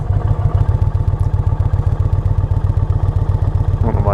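A 2020 Indian Challenger motorcycle idling along at low speed, its engine a loud, close, steady rhythmic thumping that holds level throughout, with a faint squeak near the end.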